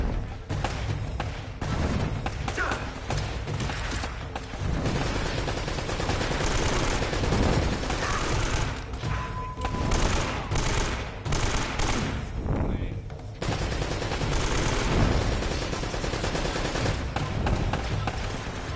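Turret gunfire in Uncharted: Drake's Fortune, with long rattling bursts of automatic fire and scattered shots repeating loudly over a busy combat din, with brief pauses between volleys.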